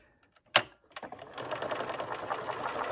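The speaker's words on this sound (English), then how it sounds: "you can go ahead and sew down the other side of all of those triangles" A sewing machine stitches down the other side of quilt triangles, starting with a sharp clunk, then settling into a steady, fast-running whir that continues to the end, close and moderately loud with no talking.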